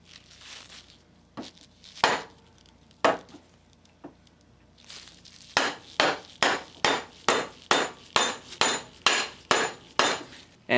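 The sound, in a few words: plastic hammer tapping bearing into housing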